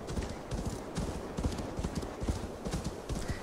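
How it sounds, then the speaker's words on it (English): Hooves of a horse in Assassin's Creed Valhalla clip-clop steadily in a quick galloping rhythm, close and moderately loud, with an occasional faint snort or whinny. "Let's call for our trusty steed."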